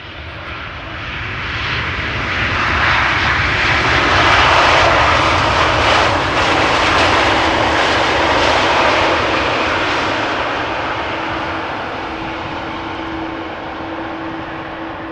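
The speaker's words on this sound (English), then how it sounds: "This is KLM flight 741. It is a Boeing 7879 Dreamliner arriving from Cartagena." A KLM Boeing 787-9 Dreamliner arriving at Amsterdam Schiphol Airport from Cartagena roars loudly and steadily overhead, its engine noise swelling and slowly fading, with a thin sustained whine running through it.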